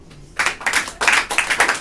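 Audience applause at a stand-up comedy show, bursts of clapping from a crowd starting after a brief quiet moment and rising and falling in several swells, fairly loud and close.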